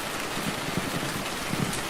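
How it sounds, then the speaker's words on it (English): Steady rain falls outside during a rainy evening, a soft, even patter of drops on surfaces heard alone, with no talking. "Can you feel the rain outside?"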